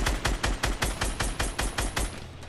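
Rapid automatic gunfire in Fortnite rattles off in a fast, evenly spaced burst of about a dozen loud, close shots, with no talking over it.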